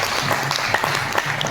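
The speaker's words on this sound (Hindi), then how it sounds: "तो इसके लिए जोरदार तालियां होनी चाहिए।" Audience applause at a Sunday closing gathering, a steady wash of many hands clapping for about a second and a half, fairly loud and unbroken, with no talk over it.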